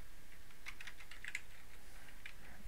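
Keys clatter on a computer keyboard in a quick burst of soft, close taps, then a few more after a pause, quiet and with no talking.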